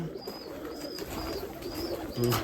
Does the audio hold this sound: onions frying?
no